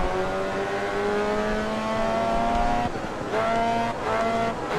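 A Formula 3 open-wheel race car in the racing game Grid Autosport accelerates hard, its engine note climbing through gears with brief dips at shifts, loud and close with faint tire noise.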